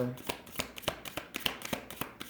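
Oracle cards being shuffled by hand, a series of sharp riffling snaps in an uneven rhythm, close and fairly loud, with a voice present in the background.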